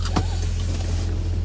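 An electric passenger-side door mirror on a 1998 MGF whirs briefly as it adjusts, a short motor buzz near the start over the car's steady low idle hum.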